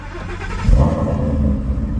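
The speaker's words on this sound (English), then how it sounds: "for this next one, we gotta fire up the car" A Ford Mustang engine fires up with a sudden low rumble and a brief rev, then settles into a steady, loud idle close by.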